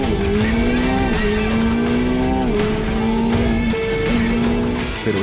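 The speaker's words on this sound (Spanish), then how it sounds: "cuando Sam pisó el acelerador" An F1 driver floors a race car, giving a loud, continuous engine whine that rises and shifts pitch through gear changes, with tire squeal blended in and no talking over it.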